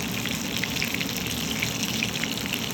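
Fish sizzles and crackles steadily in hot oil in a pan as it fries, a dense, continuous spatter with scattered louder pops, close and moderately loud, with no voices.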